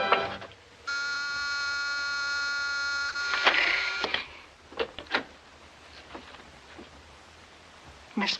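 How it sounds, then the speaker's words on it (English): A buzzer sounds in a 1949 film scene, giving a steady electric drone for about three seconds, followed by clicks and soft thumps in a quiet room. "Miss Peterson, didn't you hear that buzzer?"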